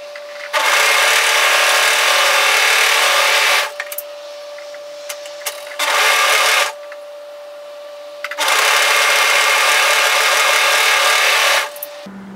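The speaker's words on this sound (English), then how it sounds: "So we only want to overlock those two internal seams" An overlocker sews the internal seams of a dress in three bursts, a long run, a short one, then another long run, each loud, fast and whirring, with near-quiet pauses between.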